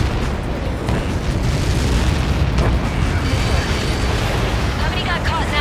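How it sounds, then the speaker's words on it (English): A missile impact blast in Ace Combat 7 gives a sustained, loud rumbling boom that fills the whole stretch with dense, heavy roar. "How many got caught in that explosion?"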